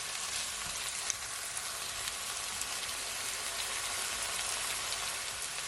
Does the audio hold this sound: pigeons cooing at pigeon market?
no